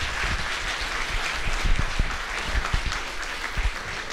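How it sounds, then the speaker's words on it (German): Applause fills the hall at a party convention, a steady wash of many hands clapping at moderate level, with occasional louder individual claps standing out. "Ich denke auch da richtige fette Welle Applaus."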